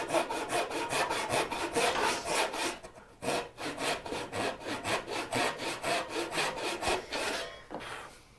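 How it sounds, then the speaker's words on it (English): A hand saw cuts diagonally through wood to deepen a stopped dado, giving steady, close rasping strokes in a fast rhythm, with one short pause midway and a brief stop near the end. "I'm going to cut diagonal"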